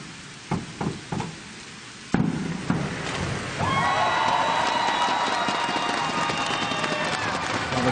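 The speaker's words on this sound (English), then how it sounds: "the crowd are here to support their divers, and that's exactly what they're doing" A diving competition crowd cheers, swelling into sustained broad applause and shouting after a few sharp knocks and splashes earlier on, loud and continuous to the end.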